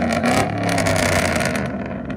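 A loud, deep engine rumble with a throaty exhaust from a 1998 Chevy 1500 pickup's 5.7L V8 with a Flowmaster Super 10 muffler, revving briefly up close and then easing off.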